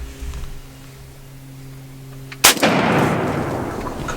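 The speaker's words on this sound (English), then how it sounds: "You just gotta pull the trigger." A single sharp gunshot from a turkey hunting gun cracks loudly outdoors during a youth turkey hunt, then rings out into a long echoing tail after a quiet wait.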